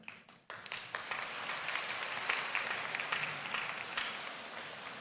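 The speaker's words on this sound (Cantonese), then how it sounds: "其實今日最大功勞咧，我覺得都係要俾掌聲我哋嘅家長嘅" Audience applause for parents at a secondary school Form Six graduation ceremony, a steady wash of many hands clapping that swells in after a brief gap and continues evenly, moderately distant, with no talk over it.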